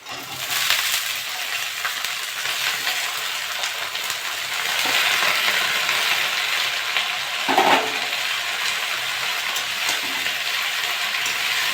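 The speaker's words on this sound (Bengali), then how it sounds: "আমি এবার শাকগুলো দিয়ে দেবো" Steady frying sizzle of red amaranth leaves with onions in a pan, a dense continuous hiss that swells midway, with a brief scrape or rustle near the end; no voices.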